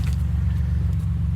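Engine of a 2016 Ford Escape, left sitting for a month and a half, running with a steady low rumble and close, even idle pulsing, heard alone.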